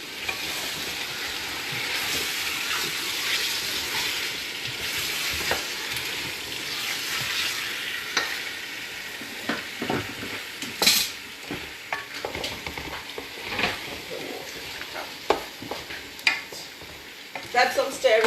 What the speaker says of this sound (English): that mustard smells pretty good when it's cooking in here